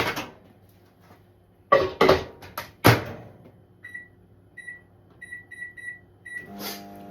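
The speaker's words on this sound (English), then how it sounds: "pop it into the microwave, make sure that safety arm is in the locked position" A microwave oven loaded with a Tupperware pressure cooker: door thumps and clunks shut, then a run of short keypad beeps and a final beep as it starts, near and clear.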